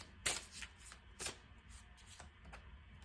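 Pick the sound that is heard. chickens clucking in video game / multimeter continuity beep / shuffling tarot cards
shuffling tarot cards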